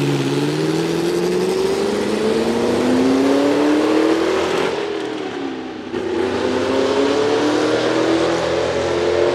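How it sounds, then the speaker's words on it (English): BRM H16 Formula One race car engine, a rising, snarling growl as it revs up, dips briefly, then surges again, loud and close with no talk. "the H16 was perhaps one of the most unique sounding cars ever made and probably had the meanest growl"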